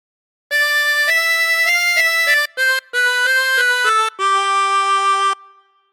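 A 16-hole tremolo harmonica plays the melody of God Defend New Zealand, bright wavering reedy notes in a clear sustained phrase with short breaks between notes.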